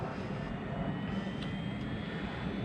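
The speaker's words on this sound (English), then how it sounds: "Get the flywheel powered up." A gyro flywheel on a Losi Promoto MX RC motorcycle spins up with a steady, even whirring hum that holds at a constant level and tone throughout, alone with no speech.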